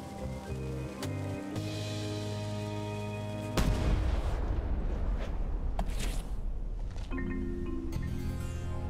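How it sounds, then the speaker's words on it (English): A ship's cannon fires in the pirate adventure game Return to Monkey Island, a loud booming blast that cuts across musical tones and then decays into a rumbling wash before the music returns. "Ready for cannon firing."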